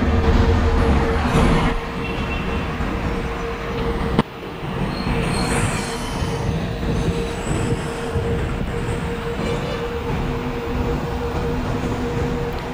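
Passenger train pulling out of a junction station in Microsoft Train Simulator, with a continuous loud rumble of rolling wheels and carriages, a steady tonal hum, a sharp clank near the middle and faint squeals above the roar.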